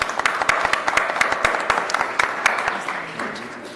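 Audience applause for the panelists at a digital and technology week event, loud crowd clapping with crisp individual claps that gradually thins and fades toward the end.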